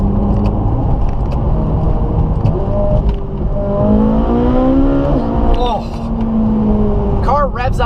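A Ferrari 458 V8 revs hard in manual race mode, its pitch climbing in rising sweeps toward a high redline, loud and close, while someone speaks over the engine.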